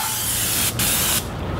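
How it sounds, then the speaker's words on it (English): An airless paint sprayer hisses loudly and steadily while coating exterior house trim, cutting out briefly for an instant before resuming, then trailing off. "So you can see right there, I got the bottom sprayed."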